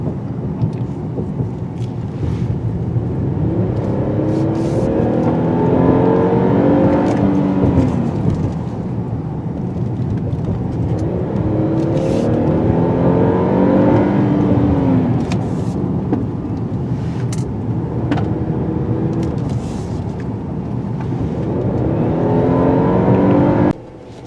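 A 2020 Kia Telluride SUV's engine drones and rises through repeated cycles of acceleration and gear shifts, heard steadily from inside the cabin without talk.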